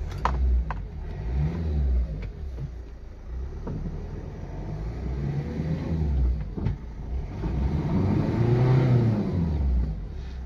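A Toyota Etios engine starts and revs after clutch repair, a steady mid-pitched rumble rising in repeated swells of revving, loud and close, with no speech.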